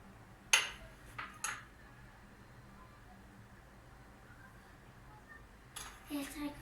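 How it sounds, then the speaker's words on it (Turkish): A tablespoon of sugar added to basil (reyhan) sherbet: a few sharp spoon clinks against a container, one loud, two softer ones shortly after and a final cluster, over a quiet background. "Çorba kaşığı şekerimizi koyuyorum."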